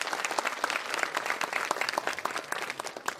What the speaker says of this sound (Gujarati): એક વખત વિનુ ભગતને જોરદાર તાળી